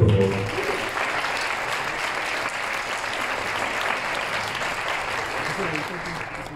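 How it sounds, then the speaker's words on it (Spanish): A crowd at an awards ceremony applauds steadily for several seconds, a dense, even clapping that fades slightly toward the end. "Un aplauso para él, por favor."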